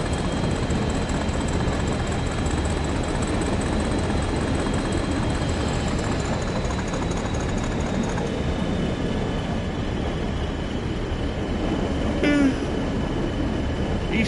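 A Class 45 diesel locomotive in the Train Sim 2020 East Coastway route gives a steady, loud rumble of engine and rolling wheels throughout, with a high whine slowly falling and a brief squeal near the end.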